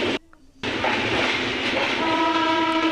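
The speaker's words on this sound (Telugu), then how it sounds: "finally reached Nizamabad railway station 9:50 AM" A train at Nizamabad railway station rolls past loudly and close, a dense continuous roar with a sustained horn tone entering toward the end after a brief dip.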